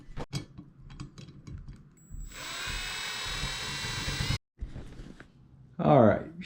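A power drill whirs in one steady burst of about two seconds during a Hunter ceiling fan installation, followed by a shorter, rougher burst near the end, with faint voice sounds and handling noise around it.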